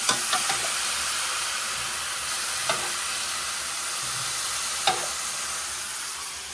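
Squid curry made with a very large squid sizzles and bubbles in a pan while being stirred, a steady close hiss with a few faint scraping clicks, and no voices.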